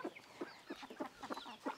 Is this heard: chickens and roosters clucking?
yes